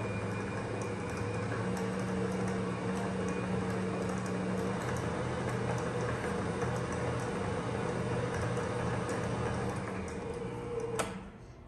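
An Ankarsrum stand mixer runs steadily with cookie paddles through peanut butter cookie dough, a constant low mechanical hum and whir, with a brief clatter near the end.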